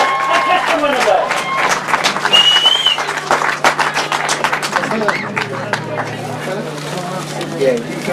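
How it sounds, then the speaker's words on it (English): Crowd applause for the sidecar winners at a grasstrack race meeting, scattered claps from a modest outdoor crowd rising briefly and then thinning, with talk and a steady engine-like hum underneath. "A very big round of applause for our Sidecar winners for Whitelam and Elliott."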